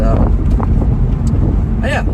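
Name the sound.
2008 BMW Z4 2.5Si roadster driving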